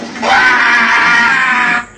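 A loud, sustained screeching war cry from a charging Ottoman horde, a massed chorus of shrill voices rising quickly, holding steady for about a second and a half, then cutting off.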